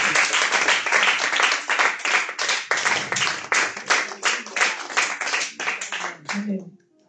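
A church congregation claps and applauds in a steady, rapid burst for several seconds before stopping abruptly.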